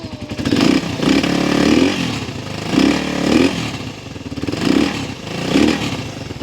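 A Raider 150 carbureted motorcycle fitted with a new ignition coil runs close by, its engine rising and falling in repeated revving bursts roughly once a second, loud and with no talk.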